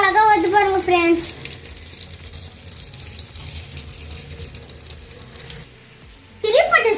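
Egg masala sizzles steadily in a pan over a low simmer, a soft continuous crackle and hiss, with a voice speaking briefly at the start and again at the end.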